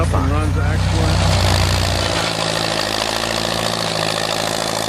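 A Massey Ferguson 135 tractor's Perkins AD 3.152 three-cylinder 2.5-liter diesel idles steadily and close, its low rhythmic knock continuing throughout while a voice talks over it.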